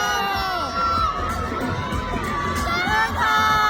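Loud crowd at an NBA House fan event in Hong Kong cheering and shouting continuously, with high-pitched voices and whoops layered over a dense, steady roar of people.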